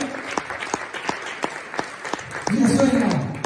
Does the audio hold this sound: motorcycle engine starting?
no